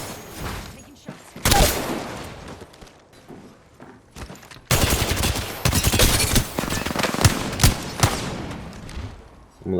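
Rapid automatic gunfire from a video game shooter rattles in dense bursts, with quieter gaps and scattered single shots between the long, loud volleys.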